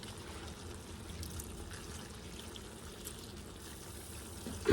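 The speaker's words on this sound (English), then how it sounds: "I could actually add just a little pinch more water" Water pours and trickles steadily, a soft continuous liquid splash heard close up at low volume.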